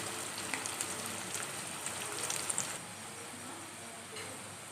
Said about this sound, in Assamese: পিঁয়াজখিনি মই এনেদৰেই অকণ ৰঙচুৱা হোৱালৈকে ভাজি ল'ম।